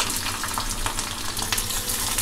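Garlic and chili sauté in a pan with a continuous, fairly loud frying hiss, dotted with faint crackles and light stirring noises.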